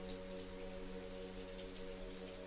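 Steady rain falls on city streets in Scotland, a dense continuous patter of drops on hard surfaces, close and even throughout, with a low steady hum beneath and no voices.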